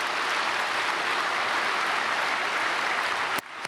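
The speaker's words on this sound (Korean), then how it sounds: "예, 오늘 등록해 주신 분 박수하겠습니다." A church congregation at a Sunday service claps in a steady, dense burst of applause that stops abruptly just before the end.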